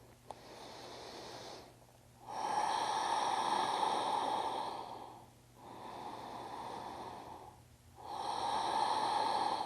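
Slow, deep breaths during a prenatal yoga pose, with long, airy, rasping inhales and exhales in a steady rhythm, close to the ear, alone with no talk.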